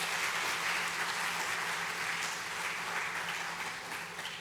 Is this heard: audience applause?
yes